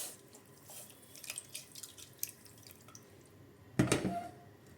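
Water poured into a pot of mutton for pickle: scattered drips and light splashes, then a brief louder gush of pouring near the end, close and without talk.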